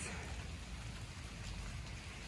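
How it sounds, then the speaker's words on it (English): Rain falls steadily outdoors on a rainy autumn day, a soft, continuous hiss of drops with no voices. "It's been raining all day"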